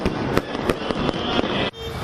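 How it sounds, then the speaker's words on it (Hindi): Fireworks burst at the Golden Temple in Amritsar, a rapid string of sharp crackling bangs at irregular intervals over a busy background hiss, ending with a sudden drop. "इस मौके पर वहां जमकर आतिशबाजी भी हुई"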